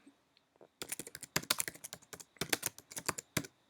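Close, quiet clatter of a computer keyboard as a blog post title is typed, a quick irregular run of key taps in short bursts with brief pauses, no talk.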